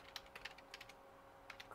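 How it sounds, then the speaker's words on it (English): Quiet computer keyboard typing in short irregular bursts of clicky keystrokes, with pauses between them and no talking. "You can see my typing isn't the best, is it?"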